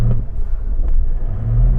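A Range Rover SUV engine revs hard and steadily while brake boosting at the foot of a slope before a drag race against a Toyota Land Cruiser, a loud continuous low rumble close by with no talk.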